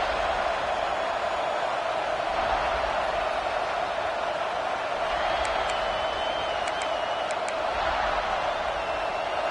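A stadium crowd roars in a college football video game during South Carolina vs Clemson, a constant, wide wash of cheering that stays level the whole time, with a few faint high whistles midway.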